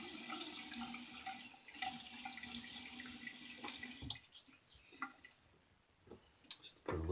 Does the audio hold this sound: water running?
yes